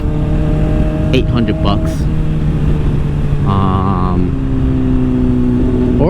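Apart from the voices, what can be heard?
Honda CBR600RR motorcycle exhaust revving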